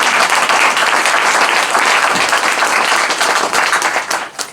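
A loud, dense round of audience applause at a tribute event, close and continuous, tapering slightly in the final moment.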